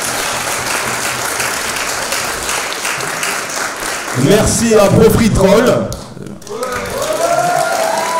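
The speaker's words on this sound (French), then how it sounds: "On peut les applaudir." Live audience at a stand-up comedy show bursts into applause and cheering after someone speaks, the clapping swelling briefly before he resumes talking over it.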